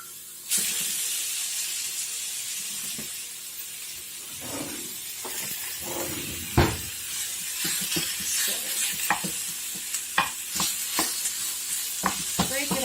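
Ground beef or bison sizzling and frying in a pan with a little extra oil, a steady bright hiss broken by scraping stir strokes and soft clicks as the meat is broken up, close and unaccompanied by speech.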